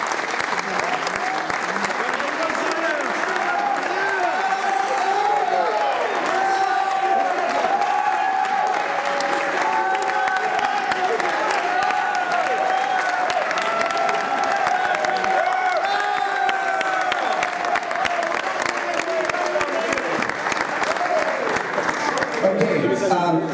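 A high school audience applauds steadily as student athletes sign with colleges on National Signing Day, with long continuous crowd clapping and a few faint voices and cheers mixed into the sustained roar.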